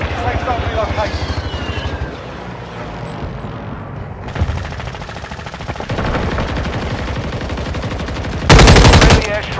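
Rapid machine-gun fire, booming impacts and aircraft roar from a friendly airstrike in Warzone Mobile. The bursts are loud and close, with a very loud blast near the end.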